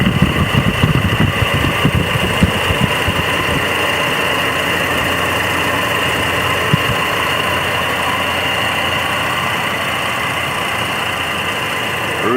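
A 1977 Chevrolet Monte Carlo with an original 350 V8 four-barrel engine idling close by, giving a loud, steady, low rumbling drone with a slightly uneven pulse at the start.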